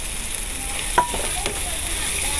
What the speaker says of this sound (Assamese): এতিয়া ভালকৈ আকৌ মই এইখিনি ভাজি ল'ম